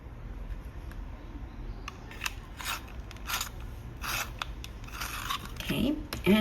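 Polychromos colored pencil being turned in a sharpener, producing irregular close scraping and shaving scratches that grow busier toward the end, with faint background sound.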